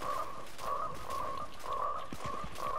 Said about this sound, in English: There's so many frogs.